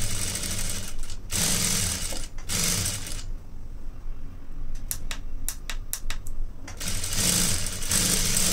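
Sewing machine stitching a plain blouse: steady whirring runs of rapid needle clatter, with a pause in the middle broken by a few sharp clicks before the stitching resumes.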